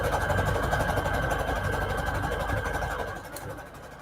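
A sewing machine set to its longest straight stitch runs steadily along paper scrap trim, a close, continuous whirring hum that eases slightly toward the end.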